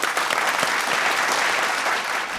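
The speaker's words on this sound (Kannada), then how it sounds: "ಜೋರ್ ಚಪ್ಪಾಳೆ." Loud, dense applause from a studio audience on a game show, a steady wash of many hands clapping together throughout, with no break and no talk over it.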